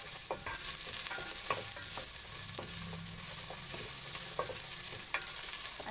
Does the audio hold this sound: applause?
no